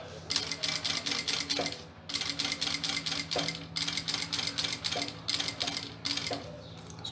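Sewing machine stitching along the edge of a bag pocket, a fast, close mechanical chatter running in bursts with brief stops between runs, fairly quiet overall.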